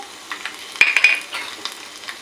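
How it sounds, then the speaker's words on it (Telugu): Mustard seeds frying as a tempering in a pan for tamarind leaf dal, a faint steady sizzle broken by a few sharp crackles and pops near the middle. "దీన్ని చక్కగా ఫ్రై చేసుకోవాలి"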